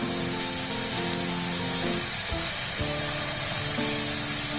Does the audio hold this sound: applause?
no